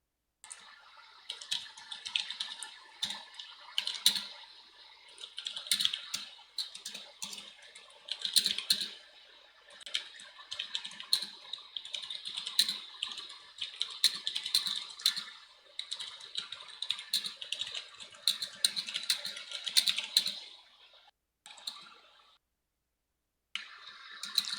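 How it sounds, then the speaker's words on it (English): Close, quick typing on a computer keyboard, bursts of dense key clicks that continue for about twenty seconds with short pauses, before stopping near the end. "I know you can hear my keyboard."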